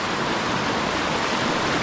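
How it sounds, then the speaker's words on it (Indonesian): Steady, dense rush of a river flowing through Pandak Gede village in Tabanan, Bali, a broadband wash of water that holds constant and fairly loud throughout, with no voices. "Sungai Golok ya?"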